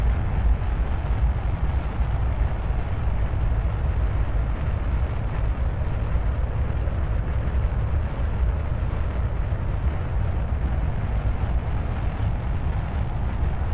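Solid fuel rocket boosters burn steadily in the video game Kerbal Space Program, giving a loud, continuous low roar that holds level without a break and has no talk over it.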